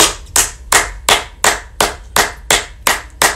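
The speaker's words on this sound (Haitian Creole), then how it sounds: "Bat bravo pour la jeunesse." Hands clap in a steady, loud rhythm of about nine sharp claps, evenly spaced roughly every 0.35 seconds, close to the microphone and with no talking.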